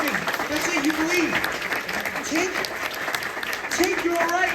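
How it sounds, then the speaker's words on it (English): A theatre audience at a Peter Pan stage play claps continuously, a steady wash of applause with voices speaking over it. "Clap your hands if you believe."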